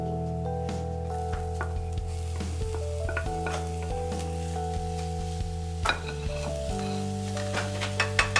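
Chopped vegetables and chicken sizzle steadily in a hot pan in a Tibetan-style stir-fry, with a spatula repeatedly scraping and tossing the food, loud and close, no talking.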